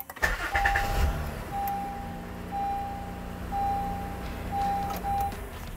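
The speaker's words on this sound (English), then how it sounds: "give it a crank, see how it goes." A 2013 Honda Accord V6, freshly fitted with a new starter, cranks and comes to life, then settles into a steady, moderately loud engine hum with a faint whine over the top.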